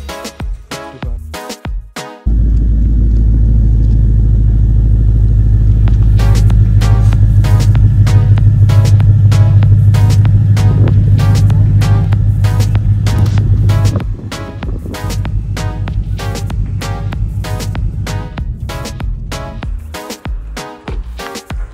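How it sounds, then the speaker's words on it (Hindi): A Ford Mustang being driven, its engine a loud, steady low rumble that rises in a sustained pull after a brief start, then eases to a lower cruise with the noise of the road and wind. "फाइनली गाड़ी चला के देखी मैंने,"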